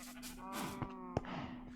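A single sheep in the Minecraft video game gives a short, wavering bleat, fairly clear and close against quiet background.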